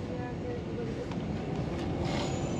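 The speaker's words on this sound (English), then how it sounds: "high-speed train which goes to Ankara" TCDD YHT high-speed train travelling from Istanbul to Ankara, heard from inside as a steady, continuous low rumble and rolling hum throughout, with faint speech over the top.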